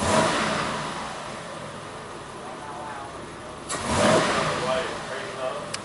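A '93 Buick V6 engine running with a fairly steady drone as the throttle is snapped, swelling into a brief rev near the four-second mark before settling back.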